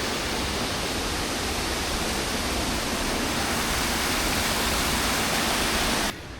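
A tiny stream swollen by heavy rain pours down as a waterfall near the Endless Bridge in Denmark, a steady, dense roar of rushing water that holds unbroken until it cuts off abruptly near the end.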